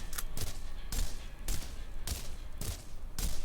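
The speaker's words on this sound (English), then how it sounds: "Hear the bullets." Gunfire in the video game Borderlands: about seven loud, sharp bursts at uneven intervals over a steady background din.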